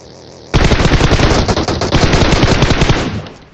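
Rapid automatic gunfire in a video game fires as a loud, continuous burst of shots for about three seconds, with no talking over it.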